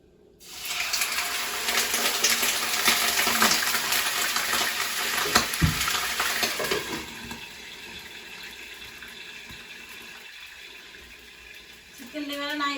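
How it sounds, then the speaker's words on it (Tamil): Chicken liver dropped into hot oil in a pan, a loud, dense sizzle and crackle that holds steady for several seconds, then eases to a softer, lower fizz with a brief clatter near the end; no one speaks. "முதல்ல நான் இந்த சிக்கன் லிவரை இந்த எண்ணெய் கொதிக்க விட்டுட்டு அதுக்குள்ள நான் போட போறேன்."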